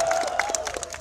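A live concert crowd in Bali applauds a band, a brief burst of scattered clapping and cheering with a sustained tone running underneath.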